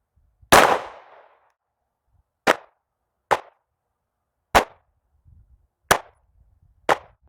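Springfield Armory Echelon 4.0C handgun fired at an outdoor range: six loud, sharp pistol shots spaced about a second apart with brief echoing decay between them.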